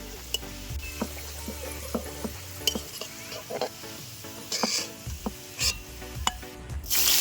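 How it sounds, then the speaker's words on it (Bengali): Raw onion hitting hot oil for a chicken rezala, giving a steady sizzle broken by scattered clinks and scrapes of a utensil against the pan, close up with no talking. "তেলের উপরে দিয়ে দিচ্ছি কাঁচা পেঁয়াজ।"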